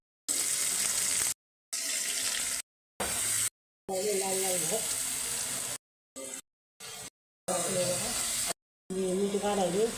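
Garlic frying in hot cooking oil, a steady hissing sizzle broken by short pauses, with someone talking over it at times.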